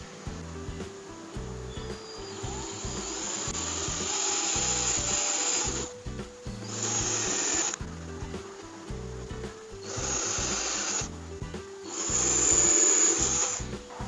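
Holes being drilled into a used plastic jar to fit clear water pipes for a simple filter, heard as repeated bursts of a power drill whining and chattering through the plastic, several runs separated by short pauses.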